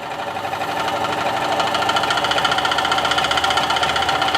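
A small Dremel scroll saw with a pinless blade runs steadily, a close, rapid buzzing chatter with a fast mechanical vibration that swells slightly in the first second, then holds even throughout.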